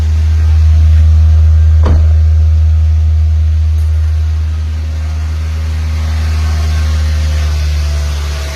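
A Toyota Vios engine idles roughly at high RPM, producing a loud, close, steady drone with a strong low rumble and a faint swell and dip in level. There is no talking.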